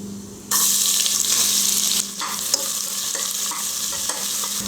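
Thinly sliced onions hit hot oil with spices in a pressure cooker, bursting into a loud sizzle that settles into steady frying with stirring scrapes.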